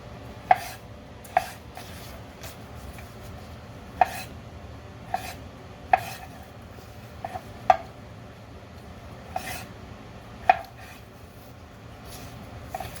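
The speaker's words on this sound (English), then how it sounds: "we're going to cut this in bite-sized pieces" A knife cuts a peeled roasted beet into bite-sized pieces on a board, giving about a dozen sharp, separate chops at an uneven, unhurried pace, close and clear over quiet room noise.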